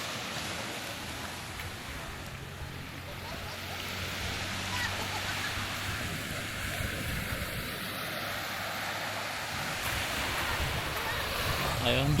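Choppy waves on a windy sea off Limasawa island wash and surge in a continuous roar, with wind buffeting the microphone and a faint low engine hum beneath, growing slightly louder toward the end.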